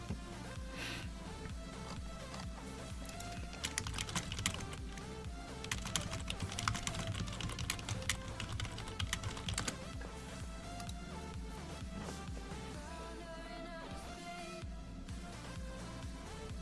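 Rapid, continuous keyboard typing, a dense clatter of keystrokes over steady background music, fairly quiet throughout.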